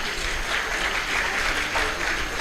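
Audience applause at a design marathon event, a steady wash of many hands clapping at once, loud and sustained throughout.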